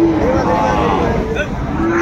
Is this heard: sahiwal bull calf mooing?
yes